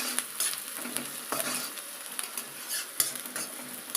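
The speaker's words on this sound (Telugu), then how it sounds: "ఇలాగా ఆనియన్స్ బాగా వేగేంత వరకు" Onions sizzle in a pan for chicken curry while being stirred, a steady frying hiss punctuated by repeated spoon scrapes and metallic clinks against the pan.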